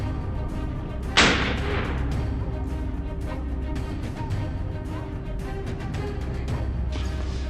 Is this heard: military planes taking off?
no